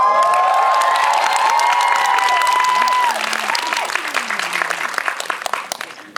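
A full cinema crowd claps loudly to welcome a guest at a film screening Q&A, with whoops and cheers on top; the clapping is dense at first, then thins and tapers off toward the end.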